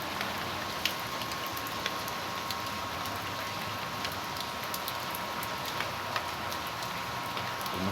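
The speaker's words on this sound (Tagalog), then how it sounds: "Dito tuloy-tuloy pa rin ang ulan mga guys, mga idol." Steady rain falls in a continuous broadband hiss, with faint drips and ticks scattered on top and no voices.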